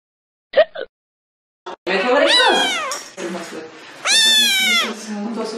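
A house cat meows several times while its owner is in the bathroom, first two short quiet chirps, then long, loud, rising and falling drawn-out meows close to the listener.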